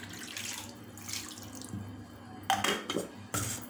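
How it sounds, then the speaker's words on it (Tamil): Water pours and splashes into a pot while drumstick leaf soup is being made. The flow is moderate and comes in a few bursts, with faint clatter and no talk. "இந்த 1 செம்பு தண்ணி ஊற்றணும்."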